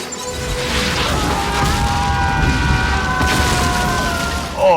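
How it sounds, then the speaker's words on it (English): An explosion in the 1998 film The Mask of Zorro, heard as a loud, sustained booming rumble with mechanical clatter, holding steady for several seconds before a sharper burst at the end. "Oh, that was a pretty satisfying explosion right there."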